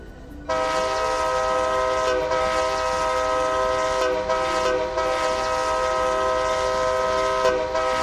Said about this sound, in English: Here are the odd horns that are on locomotives.